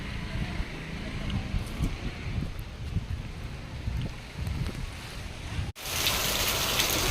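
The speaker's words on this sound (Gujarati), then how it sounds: "લાખણકામાં ધોધમાર પવન સાથે વરસાદ" Heavy rain driven by strong wind in Lakhanka village, a steady broadband roar that turns into a loud, buffeting rush of wind on the microphone for the last second and a half.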